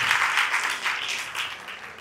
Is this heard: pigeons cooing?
no